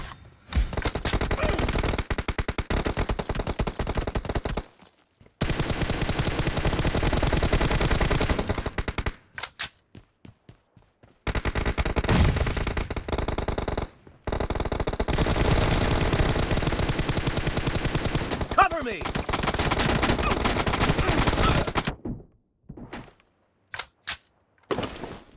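Rapid bursts of automatic gunfire from a team deathmatch video game rattle loudly in long sustained volleys, broken by short silent gaps and a few isolated single shots near the end.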